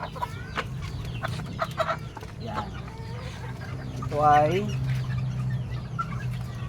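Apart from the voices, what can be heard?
chickens clucking, Boston roundhead cross breed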